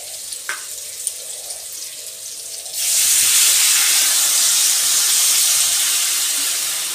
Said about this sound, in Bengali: আর দিয়ে একটু হলুদ দিয়ে আমি নাড়াচাড়া দিয়ে তারপরে জল দিয়ে দেবো।